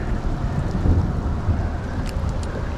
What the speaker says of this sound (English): I got caught in the rain.